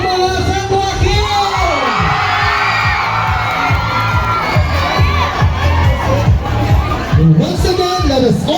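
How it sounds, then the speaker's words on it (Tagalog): Loud festival crowd at the Majigangga Festival shouting and cheering for the Barangay San Joaquin group, a dense continuous roar of voices with rhythmic chanting and whoops throughout. "Sumigaw ang mga San Joaquin!"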